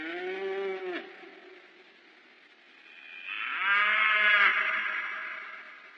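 A cow moos twice in a cartoon scene, with a long, loud, low lowing call followed after a pause by a second, brighter and louder moo that swells and fades.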